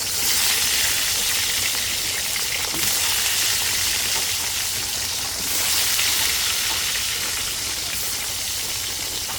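Hilsa fish frying in hot oil, a loud continuous sizzle and crackle close by, swelling slightly now and then, with no voices over it.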